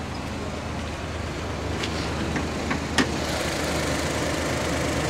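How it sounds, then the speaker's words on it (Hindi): Suzuki Alto VXR with a converted 660cc automatic engine idling steadily, a low continuous hum with a few faint clicks and one brief sharp tap partway through. "ये गाड़ी स्टार्ट हो गई है"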